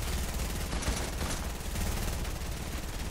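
Rapid gunfire in the Fortnite video game during a duos match, a dense continuous burst of shots with no talk over it.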